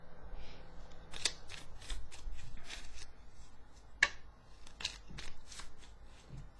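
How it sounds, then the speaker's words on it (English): Tarot cards are shuffled close up in quiet, crisp riffling bursts with sharp slaps and flicks, repeating in uneven clusters. "I go quiet sometimes when I'm shuffling."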